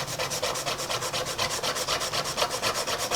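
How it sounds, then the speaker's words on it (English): A Mono Sand eraser rubbed against cardstock makes rapid, rhythmic back-and-forth scrubbing strokes, about seven per second, close and steady throughout. "I'm just going to use the Mono Sand eraser and see."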